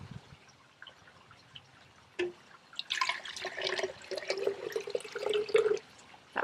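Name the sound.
water poured into a jug for mixing alginate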